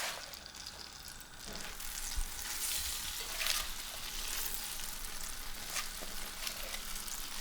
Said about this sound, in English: A little bit of butter, straight into our pan. And then our spinach.